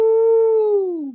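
A single dog howl rings out loud and close, a sustained tone that holds steady and then slides downward as it fades, heard alone.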